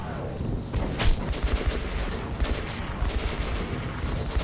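Gunfire in Metro 2033 Redux crackles in rapid, overlapping bursts, with repeated sharp shots and booms layered over a dense, rumbling low-end background.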